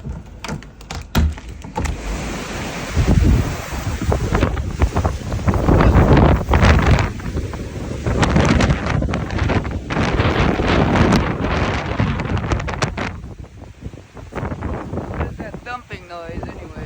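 A strong blizzard windstorm pounds a remote home, loud roaring gusts buffeting the microphone and walls in surging waves with occasional knocks and rattles, easing toward the end.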